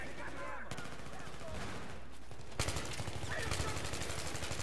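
Battlefield 3 gunfire cracks out in rapid automatic bursts, growing louder and denser partway through, with a voice talking faintly underneath.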